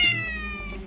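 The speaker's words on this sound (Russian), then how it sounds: "Это мяучение." A cat at the veterinary clinic gives a single loud, drawn-out meow close up, with a strained, wailing tone, heard alone with no talk.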